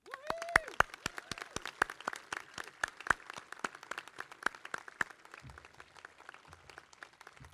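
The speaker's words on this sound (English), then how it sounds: "Can we give our staff a round of applause as well?" Scattered applause from an audience at a university class induction ceremony, with individual claps standing out sharply at first, then thinning into sparse clapping as the crowd settles and a few low voices murmur.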